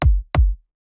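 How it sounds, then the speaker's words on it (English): Two punchy electronic kick drum hits, deep and booming with a quick decay, played close and dry with silence after. "There's this kick which sounds like this"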